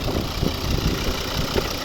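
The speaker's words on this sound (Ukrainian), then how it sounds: "Ось він цей знаменитий двигун." A 2011 Volvo V50's 2.0 five-cylinder D3 diesel engine idles steadily nearby, a low, even rumble with faint knocking pulses and no talking.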